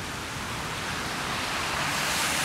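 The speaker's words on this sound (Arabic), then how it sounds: "بس في المطر اللي بجد زي هنا، مش زي الدلع اللي عندنا" Heavy rain falling in Moscow, a dense, continuous hiss and roar that grows slightly louder, with no voices over it.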